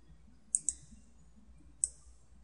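Three sharp computer mouse clicks, two close together then one alone a second later, crisp and near over a faint low hum while setting up an Ethernet switch in network simulation software.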